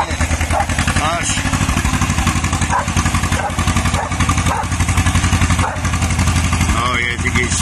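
A 1960s John Deere bulldozer with a two-cylinder engine runs loud and close, its steady rapid chugging thump filling the clip while people talk over it.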